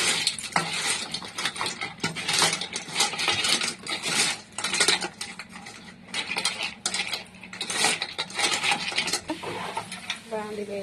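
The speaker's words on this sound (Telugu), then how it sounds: "పీతలు ఇలా బాగా ఫ్రై అయిపోవాలి" Crabs fry in a pan with ginger-garlic paste, turmeric, salt and chilli as a metal spoon stirs them, giving repeated clattering scrapes and knocks over a frying hiss that comes in rhythmic bursts.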